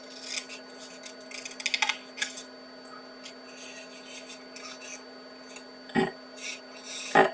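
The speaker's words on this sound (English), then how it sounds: "I have cut this leaf completely off this last flower" Scissors cutting a paper leaf off a handmade card flower, with a cluster of quick close snips followed by a few sharper cuts later, under a steady background hum.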